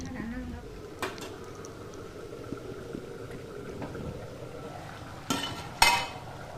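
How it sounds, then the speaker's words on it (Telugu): Soaked basmati rice is stirred in a cooking pot for fried chicken biryani, giving soft scraping under background hiss, followed by two sharp metallic clinks as a lid goes on. "వేసి ఒకసారి కలిపిన తర్వాత దీనిపైన మూత పెట్టి ఉడికించుకోవాలండి రైస్ని"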